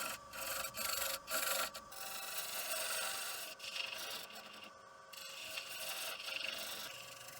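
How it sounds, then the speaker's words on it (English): A shear scrape cut on wood spinning on a woodturning lathe gives a steady, close rasping hiss with a few brief louder scrapes and momentary pauses, no voices. "Here I'm using a shear scrape cut, and you can see the very fine shavings coming off"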